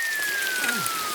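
Cartoon rain falls in a steady, dense hiss of drops, accompanied by a faint descending whistle-like tone, with no speech.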